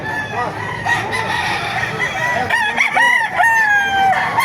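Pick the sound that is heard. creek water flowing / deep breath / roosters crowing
roosters crowing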